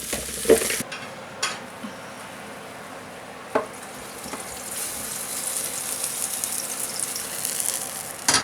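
Roasted vegetables, including sweet potato, are stirred together in a container, giving soft scraping and tumbling sounds with a few sharper knocks, close and fairly quiet with no talking.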